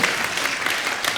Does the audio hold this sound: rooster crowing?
no